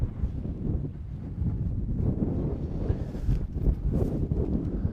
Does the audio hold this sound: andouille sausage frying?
no